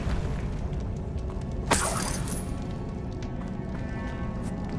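In Hogwarts Legacy, a Bombarda blasting spell sets off a single sudden explosive burst over a steady, loud rumbling game soundscape, with no speech.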